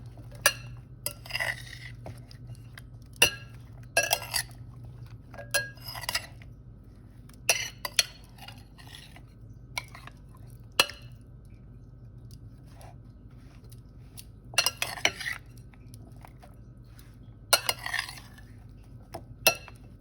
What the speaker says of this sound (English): And gently mix this around with the tuna